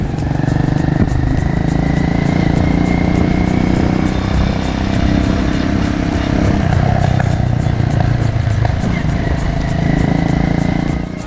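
A motorbike rides along a road on Vietnam's east coast, its engine droning loudly and steadily up close with slight shifts in pitch and continuous wind rush.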